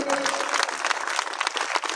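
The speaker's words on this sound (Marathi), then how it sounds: "एकदा जोरदार टाळ्या वाजवा आयोजन कमिटीसाठी" Audience applause at a Buddhist dhamma conference gathering, dense sustained clapping filling the whole stretch with a steady, fairly loud texture and no clear pauses.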